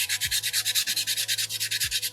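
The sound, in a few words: sanding a soapstone bear carving with sandpaper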